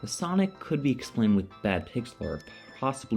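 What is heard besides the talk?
No distinct noise like a dog, phone or traffic.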